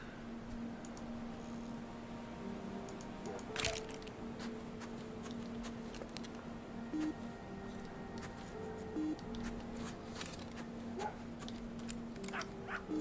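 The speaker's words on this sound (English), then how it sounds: "So there's a dog in the game and my dog barking outside." A dog barks outside, faint and intermittent, with a few short sharp yaps buried under steady video game music and effects.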